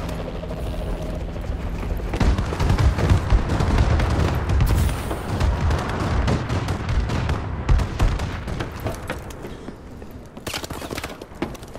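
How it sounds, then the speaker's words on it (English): Enemy bombing run in the video game Call of Duty: Advanced Warfare, a dense roaring barrage of rattling blasts and crackling detonations that runs loud for about ten seconds before tapering into scattered impacts. "Enemy bombing run incoming!"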